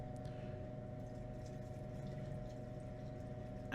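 Distilled water poured from a container into a glass beaker of powdered jeweler's bench sweeps, giving a steady, continuous liquid rush with a low hum underneath, no speech.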